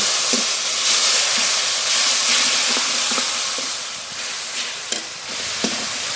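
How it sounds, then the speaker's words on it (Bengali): Spice paste with turmeric, salt and a splash of water fries loudly in a pan for a fish curry, a constant sizzling hiss broken by occasional scrapes of stirring, close-up without speech. "হলুদ গুঁড়ো স্বাদ মতো লবণ এবার একটু জল দিয়ে মশলা খুব ভালো করে কষিয়ে নেবো"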